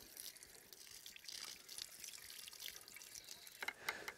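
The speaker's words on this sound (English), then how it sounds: "Try to pour this in this little bee hole to prime this pump." Clean water poured by hand into the small priming hole of a pond irrigation pump, a quiet trickling, splashing flow with a few louder drips and splashes near the end.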